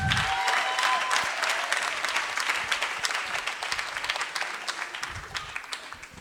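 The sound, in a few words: audience round of applause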